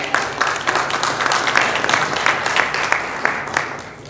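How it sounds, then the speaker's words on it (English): Applause from the audience at the Red Cross 99th annual meeting: dense, steady clapping from a crowd, moderately loud and unbroken for the whole stretch with no voice over it. "Give yourselves a round of applause for being here."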